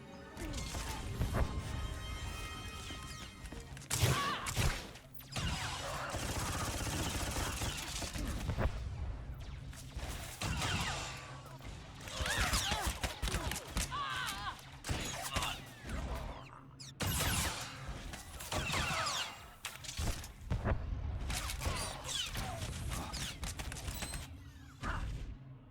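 Soldiers exchange gunfire in Star Wars: The Old Republic on Coruscant: repeated loud bursts of blaster fire and crashing impacts across the whole stretch, with brief pauses between volleys.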